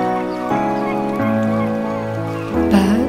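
Loud, close honking calls from geese or similar waterfowl, several overlapping nasal cries that shift in pitch, with no talking.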